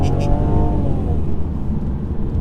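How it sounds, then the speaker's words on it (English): A 2019 Mercedes C300 with a four-cylinder engine pulls along a country B road, its intake giving a loud, steady, throaty roar with a rising rev note, heard close from inside the cabin. "Love that intake noise."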